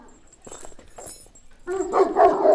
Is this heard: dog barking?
yes